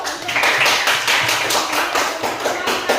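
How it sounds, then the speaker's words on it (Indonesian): A classroom of students claps together in a rhythmic, patterned sequence of sharp, close group claps, loud and repeated in quick bursts. "Tepuk tangan dulu."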